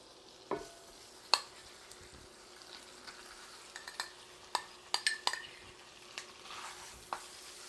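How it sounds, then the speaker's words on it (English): Leftover rice pudding being stirred and heated in a pan, a soft background sizzle broken by scattered light scrapes and clinks of a utensil against the pan. "And now I'm just going to put my rice pudding in here."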